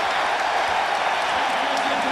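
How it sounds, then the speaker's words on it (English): A basketball arena crowd in Philadelphia cheers and applauds at an NBA playoff game, 76ers against the Pistons, a loud, steady roar of many voices filling the space without a break. "Now the crowd's really getting into it, loving the effort from the young Sixers."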